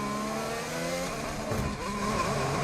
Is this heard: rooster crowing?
no